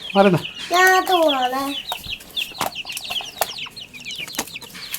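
Native hens cluck and chicks peep inside a backyard coop, a few loud harmonic calls up front giving way to busy, overlapping cheeping and scratching.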